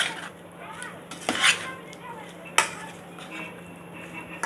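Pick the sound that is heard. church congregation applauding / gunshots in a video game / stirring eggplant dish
stirring eggplant dish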